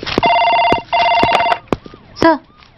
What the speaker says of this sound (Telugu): మీకు ఫోన్.